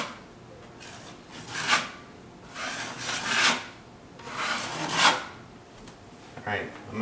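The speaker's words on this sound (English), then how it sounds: "I'd want to smooth that out before I called this coat done." Drywall knife scraping and smoothing joint compound over taped drywall, giving repeated rough swishing strokes that swell and fade about every second or two, close by, with faint low room noise between strokes.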